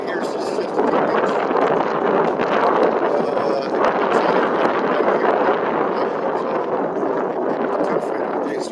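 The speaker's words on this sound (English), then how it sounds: "The wind is too much, so it's probably unbearable." Strong wind buffets the microphone during an e-bike ride near Siesta Key, a loud continuous roar that fills the whole stretch with no pause.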